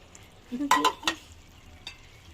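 Meat dropped into a hot pot for a Chittagong-style dish, with a short burst of stirring and sizzling frying that fades to a quiet simmer, one brief clink near the end.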